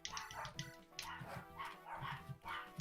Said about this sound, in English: Oh, my dogs are going nuts.